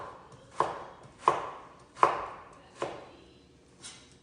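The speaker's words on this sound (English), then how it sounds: "the frozen one is easier to cut actually." A knife chops through small frozen shrimp on a board, with five crisp, evenly spaced thuds that fade slightly toward the end, close and alone with no talk.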